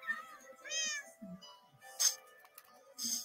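Cat meowing in the Minecraft video game, several drawn-out mews spaced across a few seconds with small game clicks between, fairly clear and alone without talk.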